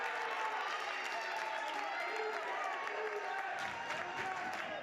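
Home crowd at a boys varsity high school basketball game against Randolph erupts after a travelling call, a dense, loud roar of cheering and clapping that holds steady throughout and eases slightly near the end.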